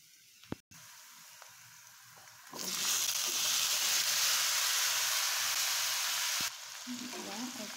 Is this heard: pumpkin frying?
yes